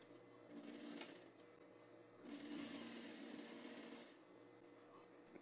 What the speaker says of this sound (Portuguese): Você continua costurando a fenda em cima da costura da overlock,